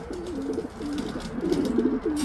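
Racing pigeons cooing close by in repeated low throaty phrases, several overlapping calls over a faint background with no speech.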